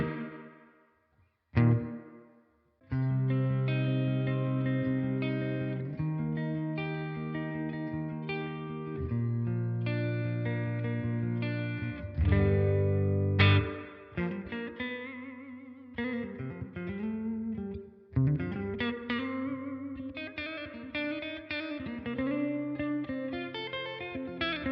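Electric guitar played through a Blackstar St James EL34 tube amp with reverb, clean sustained chords and arpeggiated notes ringing out with echoing tails, separated by brief pauses and a few sharp strums, with no talking.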